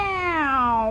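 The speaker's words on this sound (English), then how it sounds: "Oh, guys, cats." A cat gives one long, drawn-out meow that slowly falls in pitch and rises again at the end. It is loud and close, with no talk over it.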